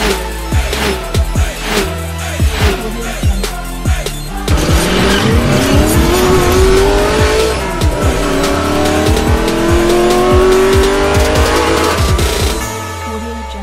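A 2016 Ford Mustang with its 2.3-litre EcoBoost engine driving hard, loud engine note rising and falling through revs, with tyre squeal and skidding sounds running almost continuously.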